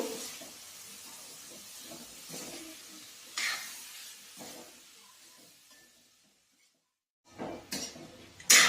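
Cauliflower, potato and pea curry being stirred in a pan, with quiet scraping and clinking of a spoon against metal in uneven strokes, a faint hiss, and a louder clatter near the end.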